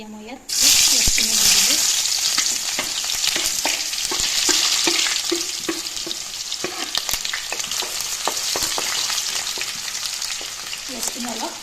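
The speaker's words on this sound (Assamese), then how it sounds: "অলৰেডি কেৰাহীত তেল গৰম হ'বলৈহে দি দিছোঁ" Chicken fries in hot oil in a kadai with a loud, continuous sizzle that starts abruptly, broken up by regular scraping and tapping as the pieces are stirred.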